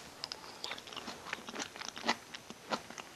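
Crunchy bites and chewing of a millet and vegetable bake with a crisp top, a string of close, sharp crackling crunches spread unevenly over a few seconds with no talk.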